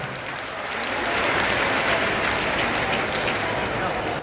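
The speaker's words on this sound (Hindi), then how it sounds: "एक बार पूरे मंच के लिए अभिनंदन करें, जोरदार तालियां बजाएं।" Loud, dense applause from a large crowd at a festival stage event, building within the first second and holding steady, with a faint voice underneath.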